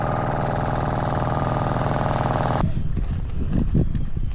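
A machine engine runs steadily with a dense, throbbing hum for over half the clip, then drops out abruptly, leaving quieter low rumbles and some scattered knocks.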